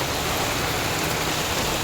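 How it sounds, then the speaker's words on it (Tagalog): Dense, steady downpour hisses without a break, loud and close, with no other sounds standing out. "Grabing ulan, no?"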